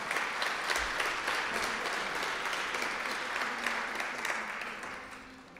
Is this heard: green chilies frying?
no